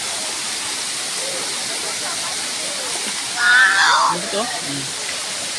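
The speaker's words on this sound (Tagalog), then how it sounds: "Pindot kayong Batlag Falls." Batlag Falls waterfall pours in a steady broad hiss of falling water, fairly close, while a person speaks briefly partway through.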